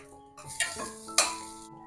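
A spoon scrapes through a steamed lentil mixture in an oiled pan, two distinct stirring strokes with a faint sizzle beneath, close and fairly clear, with no speech.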